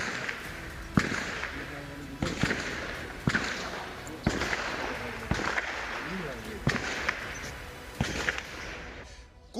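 Gunfire during an armed encounter with militants in Srinagar, heard as sharp, fairly distant cracks spaced about a second apart across the clip, with a voice talking over them.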